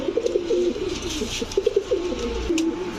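A pair of large crested pigeons, a male and a female, coo repeatedly in loud, throaty rolling phrases at close range, with steady background noise and no one talking.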